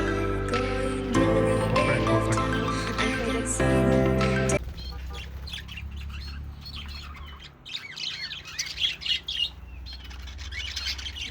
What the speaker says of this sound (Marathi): आणि हे बघा पक्षी बघा